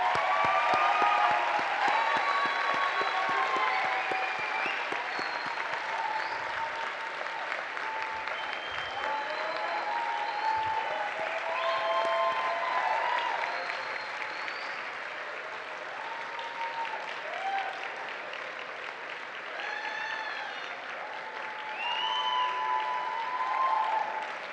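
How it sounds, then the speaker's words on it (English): Sustained applause from a large crowd of graduates standing at a university commencement ceremony, steady dense clapping filling the hall for over twenty seconds with faint voices beneath. "give them a round of applause"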